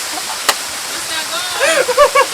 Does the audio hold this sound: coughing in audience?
no